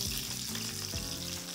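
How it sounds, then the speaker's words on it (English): Onions sautéing in a skillet alongside a roast, a soft continuous sizzle with faint crackles and pops, fairly quiet and steady throughout. "Our next step, we'll add some onions. We want to saute these onions."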